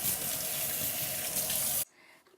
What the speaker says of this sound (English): You want to wash your hands first.